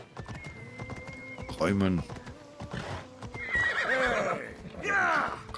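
Horse in Assassin's Creed Odyssey, hooves clopping and a loud neigh and whinny rising over the in-game sounds, with someone talking throughout.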